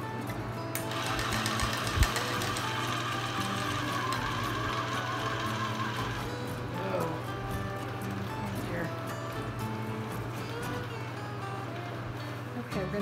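Chocolate fountain motor running steadily with a low mechanical hum and rattling buzz, straining as it labours with added chocolate, close and continuous throughout.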